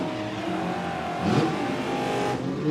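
Ford Barra engine in a naturally aspirated drag car at an Aussie 1/8th mile drag racing event, revving steadily with a sustained loud mechanical roar and a slight swell midway, no talk.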